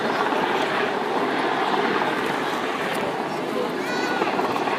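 Helicopter hovering at an air show rescue demonstration over water at Sunderland, with a loud continuous rotor and engine roar filling the scene while a voice commentates over it.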